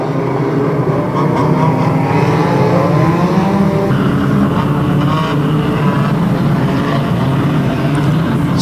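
Banger racing cars at a Kings Lynn Halloween meeting roar around the track together; a loud, continuous blend of straining engines and revving, heard from trackside with no break.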